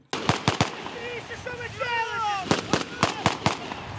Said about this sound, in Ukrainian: Навколо стрілянина все в диму.